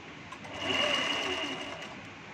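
Sewing machine stitching a dhoti salwar, a brief soft whirring run that swells and fades over a couple of seconds, heard fairly close in a quiet room.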